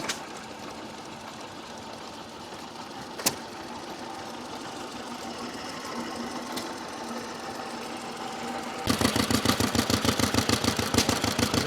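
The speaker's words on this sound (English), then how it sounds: "It's a 6 horsepower twin cylinder Fastener engine. Running quite nice." A 6 horsepower twin-cylinder Fastener vintage engine runs at a rally, a steady mechanical chugging that turns sharply louder and more rhythmic near the end, with pronounced regular beats.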